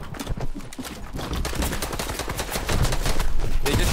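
Rapid gunfire in Fortnite, dense bursts of shotgun blasts crackling close and loud, continuous and intensifying over the few seconds with no talk.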